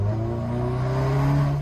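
A Volkswagen Golf GTI engine roars under full throttle, heard from inside with the window open, a loud sustained drone that climbs slowly in pitch as the car accelerates.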